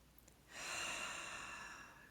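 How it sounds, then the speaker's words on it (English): Deep, comfortable breath during a calm grounding exercise, a soft airy rush that swells after a short pause and holds steady before slowly easing off, close and quiet with no talk. "take a couple of deep, comfortable breaths"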